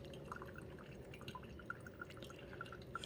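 A Hamilton Beach FlexBrew single-serve coffee maker drips brewed coffee, making faint, irregular small drips over a low, steady machine hum, with no voices.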